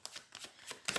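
Tarot cards being shuffled by hand, soft riffling rustles in quick bursts, close and quiet with no talk.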